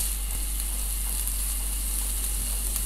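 Onion stuffing sizzles steadily as it fries in a pan, a continuous close hiss with no pauses and no voices.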